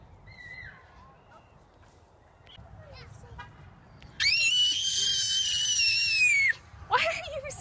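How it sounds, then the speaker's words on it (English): Children scream at home. First come a few faint squeals, then a loud, sustained high-pitched scream that lasts about two seconds and then cuts off, followed by a shorter shriek. "Why are you screaming?"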